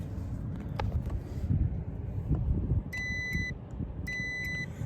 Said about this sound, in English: We're gonna set it to continuity, and we're just gonna pull on this tube here and see if we have a tone.